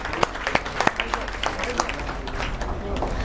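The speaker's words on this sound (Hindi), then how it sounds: "जोरदार तालियां भैया।" Students at a coaching institute's results ceremony give scattered, uneven applause, irregular sharp claps rising and thinning over about three seconds, with voices talking underneath.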